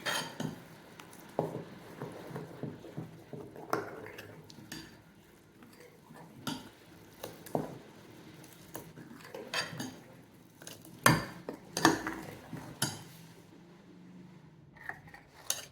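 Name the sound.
stirring ragi appam batter in a bowl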